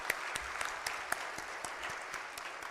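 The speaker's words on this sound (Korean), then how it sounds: "우리 성도 여러분들, 우리 감사의 환영의 박수 한번 해주시길 바랍니다." A church congregation applauds in welcome during a Sunday worship service, a dense, even wash of clapping from many hands that holds at moderate loudness throughout, with a few sharper claps standing out.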